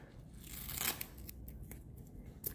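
Masking tape is pulled and pressed onto a Lexus GS300 before painting, making a close, soft peeling and rustling sound with a brief tearing crackle near the middle, with no talking.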